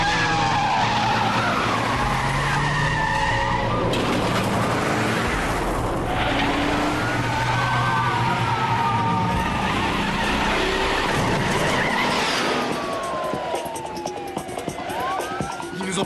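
A car racing in a chase with tires squealing in long skids over a roaring engine, loud and close, with sirens wailing behind and voices briefly heard.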